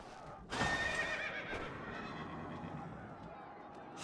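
In a video game, a horse with spikes on its face lets out a sudden loud neigh that rings on over clip-clopping hooves and battle ambience, with a faint voice underneath.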